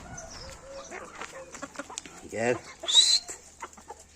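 Young Ocak chicks cluck and peep in a coop, with a short burst of clucking and a brief sharper chirp midway, heard under quiet talk and background noise.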